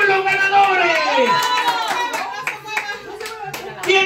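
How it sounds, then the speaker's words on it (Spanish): Children clap and applaud in a room, scattered uneven claps mixed with kids' chatter and an adult voice talking over them, loud and close. "Apláudanse ustedes mismos, apláudanse ustedes."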